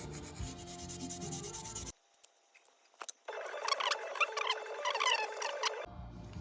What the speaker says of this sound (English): I think I'm just going to take some Scotch-Brite and just clean the surfaces of here a little bit